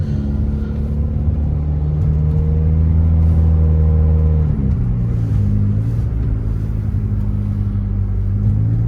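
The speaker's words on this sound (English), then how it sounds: "the exhaust with a hole in it makes for, like I said, better audio, honestly, for the engine noise" A 1994 Saturn SL2 twin cam engine with a holed exhaust drones loudly and continuously while driving, with a deep rumbling tone that shifts pitch midway as revs change.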